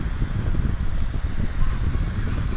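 Wind blowing across an outdoor park near water, a steady broadband rush and rumble filling the whole stretch.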